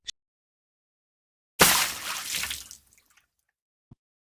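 A bucket of water splashed onto a wicked witch: one loud, sudden wet splash that crashes in and then drains away over about a second, followed by a few faint drips.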